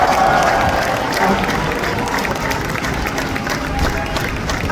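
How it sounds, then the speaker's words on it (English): An audience at a naval base in Norfolk applauds and cheers for sailors of the USS Kearsarge, a dense, steady wash of clapping and crowd noise. "let's give a big round of applause"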